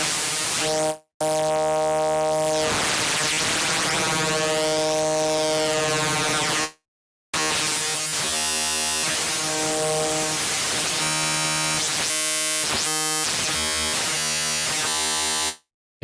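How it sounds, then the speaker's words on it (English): A buzzing, electric psytrance synth riser with sweeping, swelling tones that climb and fall, loud and alone; it cuts out briefly twice, and the later part turns into rapid stuttering pulses. "I like this electric kind of sweepy madness sound."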